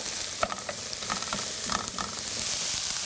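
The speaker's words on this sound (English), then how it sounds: "So we're sauteing it." Onions, garlic and peppers sauté in a pan for a tofu dish, giving a soft continuous sizzle with scattered scraping and tapping from a utensil stirring the vegetables.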